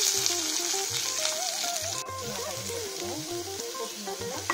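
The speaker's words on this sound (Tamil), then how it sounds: "நல்லா எண்ணெய் நல்லா காஞ்சதுக்கப்புறம் இங்கே பீக்கங்காய் போட்டு" Ridge gourd and green chillies frying in hot oil give a steady, close crackling sizzle, with faint stirring underneath throughout.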